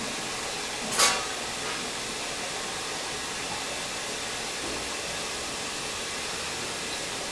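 Refurbished spin rinser dryer ramping up to 600 RPM, a steady broadband rushing whoosh at moderate level with one brief sharp click early on, continuous and without talk.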